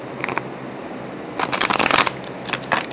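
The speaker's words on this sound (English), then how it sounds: "now I'm going to shuffle the cards for Libra" Tarot cards are shuffled in quick riffling bursts: a short flutter, a pause, then a longer run of rapid papery snaps and a final brief flurry, close up with no talking.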